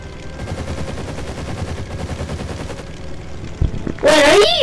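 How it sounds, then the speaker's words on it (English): Rapid bursts of plane cannon fire in the World War-era flight game Wings of Glory 2, a dense rattling volley over steady engine drone, then a sharp whistling, rising burst near the end. "How do you fire cannons?"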